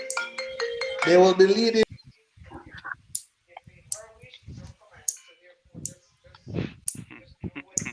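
A phone ringtone plays loudly for under two seconds as an incoming call, then cuts off, followed by sparse clicks and quiet speech.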